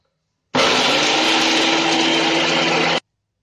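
Mixer grinder running at high speed, grinding fish curry masala paste with turmeric: a loud, steady whirring drone that starts abruptly, holds constant for about two and a half seconds, then cuts off cleanly.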